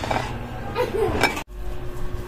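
A metal lid is set over a pot of sticky rice for suman, giving a few clinks and clanks of cookware up close, followed by a brief silence and then quiet room noise.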